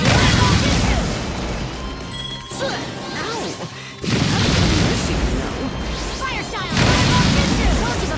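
A fire style jutsu attack in Naruto Shippuden Ultimate Ninja Storm 4 erupts in loud crashing blasts and whooshing impacts that run almost continuously, with character voices shouting over the chaos.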